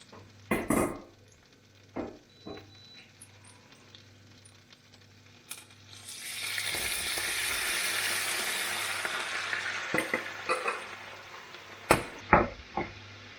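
Onions and cherry tomatoes fry in a pan for pasta, a soft sizzle rising midway, punctuated by sharp clinks and knocks of utensils against the pan.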